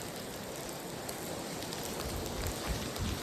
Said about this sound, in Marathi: पाऊस बघा किती जोरात आले